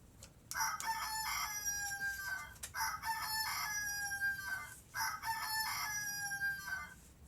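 A rooster crows three times in a row, loud and close, each long strained call followed by a short pause.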